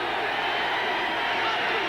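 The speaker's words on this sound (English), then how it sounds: "The crowd here in Tempe is getting fired up." A football stadium crowd in Tempe cheers as a steady, dense roar that holds at an even level for two seconds with no single voice standing out.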